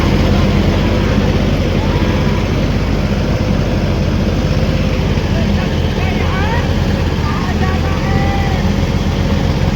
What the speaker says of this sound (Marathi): अडकलेला ट्रॅक्टर काढताना